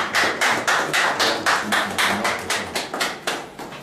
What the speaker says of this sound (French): Applaudissons encore notre intervenant.